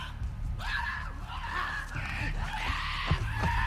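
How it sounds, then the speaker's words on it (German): Infected creatures screeching in The Last of Us Part II, a series of harsh, wavering shrieks repeating across the moment over low game ambience, with a sharp thump near the end. "Oh, Gekreische?"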